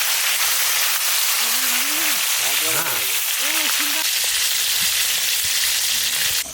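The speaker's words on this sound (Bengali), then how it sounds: "শোল মাছ ভাজবো" Snakehead (shol) fish frying in a wok of hot oil outdoors in a village, a constant loud crackling sizzle throughout, with a person speaking briefly over the hiss.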